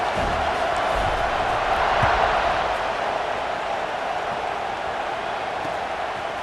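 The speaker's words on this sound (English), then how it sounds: "this crowd is buzzing after that last score" A stadium crowd in College Football 26, a video game, buzzes with steady loud murmuring and cheering that swells slightly and then holds even, with no clear talking on top.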